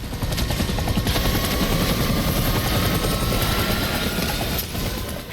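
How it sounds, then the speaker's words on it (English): A helicopter in the video game Death Stranding: rapid rotor chop thumps steadily and loudly throughout, with a sustained engine drone. "Okay, helicopter."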